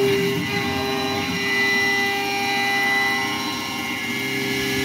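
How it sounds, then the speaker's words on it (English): A CNC gantry mill spindle with worn bearings spins while milling an aluminum quench plate, giving a steady whining hum with sharp tonal lines and a slight swell midway, continuous and close, with no speech. "sounds like I'm spinning bearings"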